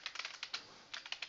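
Someone types quickly on a computer keyboard, giving a quiet, close run of irregular key clicks in two short bursts with a brief pause between them.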